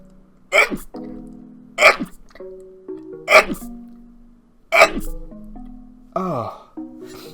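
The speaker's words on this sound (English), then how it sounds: "I'm gonna sneeze." A woman lets out a series of sharp, explosive sneeze-like bursts, about five in a row spaced a second or so apart, with short voiced sounds in between.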